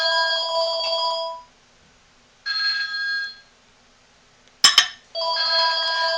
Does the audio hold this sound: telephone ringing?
yes